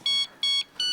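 A mobile phone ringtone plays loudly and close in three quick, bright electronic tones separated by short gaps.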